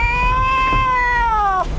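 A cat gives a single drawn-out meow, clear and fairly close, rising slightly and then dropping as it trails off, over a low rumbling background.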